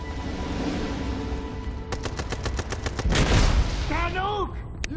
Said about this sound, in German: Ready to fire some rockets!